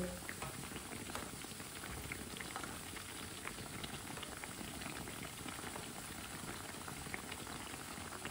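Pea tikki (matar kebabs) fry in a pan with a steady, even hiss of bubbling oil. The sound is faint and continuous, with tiny pops scattered evenly and no talking.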